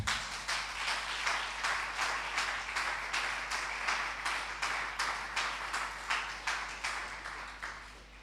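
A church congregation claps to acclaim the Lord in a steady, rhythmic beat of roughly two claps a second, the sound even and moderately distant and continuing throughout over a low hum.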